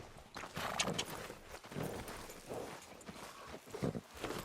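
Horse hooves clip-clopping at a steady walk in Red Dead Redemption 2, a rhythmic run of soft thuds under a broad wash of ambient game sound, with no talking over it.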